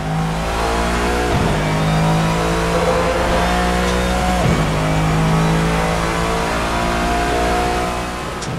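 A loud 5.4-liter naturally aspirated V8 race car engine in Assetto Corsa revs steadily toward 7,300 RPM with rising and falling pitch, a continuous roaring drone with brief gear-shift dips, no voices.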